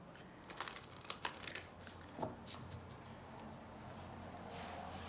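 Cards are shuffled in quick riffling bursts, fairly close and soft, against a low steady background hum.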